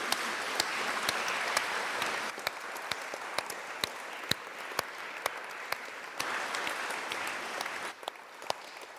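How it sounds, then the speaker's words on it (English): A seminar audience applauding its panelists, scattered hands clapping steadily at a modest, somewhat distant level for several seconds. "Let's give our panelists a round of applause for that."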